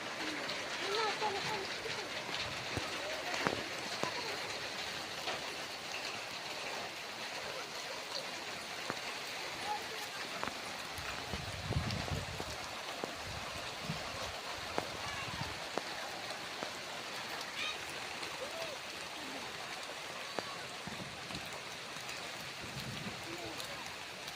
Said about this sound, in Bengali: আবার বৃষ্টি দেখো একই টাইমে দেখো